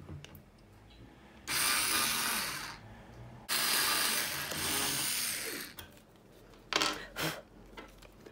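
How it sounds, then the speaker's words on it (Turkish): Two bursts of a close power drill running a thin drill bit, each a couple of seconds, followed by short clattering and clicks. "ince bir matkap ucunu aldım ve bir delik açtım"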